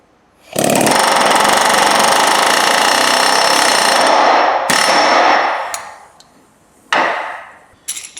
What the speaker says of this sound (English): I'm going to take my air hammer